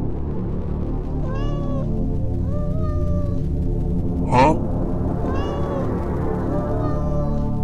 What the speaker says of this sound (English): so it's just a cat?